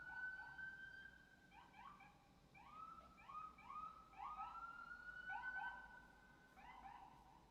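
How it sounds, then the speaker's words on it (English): Sirens from emergency vehicles sound outside, faint and distant. They rise and fall in repeated wailing and yelping sweeps that overlap through the whole stretch, with no talk. "What's with these damn sirens today?"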